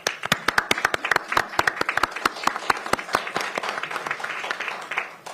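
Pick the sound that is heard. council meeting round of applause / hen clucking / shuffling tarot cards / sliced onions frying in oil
council meeting round of applause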